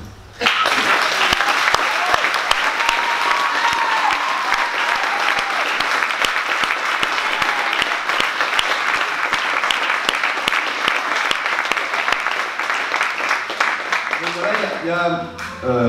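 Sustained, loud applause from a large audience at a festival closing ceremony fills the space for many seconds, fading near the end as a voice returns.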